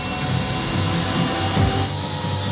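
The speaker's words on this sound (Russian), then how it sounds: "когда они летали на личных вертолетах" Engine and rotor noise heard from inside a private helicopter in flight over Medellín, Colombia: a loud, steady, broadband roar and whine that fills the whole stretch without any talk.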